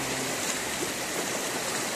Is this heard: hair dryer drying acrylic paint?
no